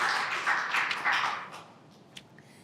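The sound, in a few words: audience applause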